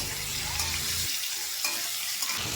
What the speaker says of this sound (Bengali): দিয়ে খুব ভালোভাবে কিন্তু কষে নিতে হবে।